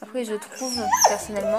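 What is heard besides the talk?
dog whimpering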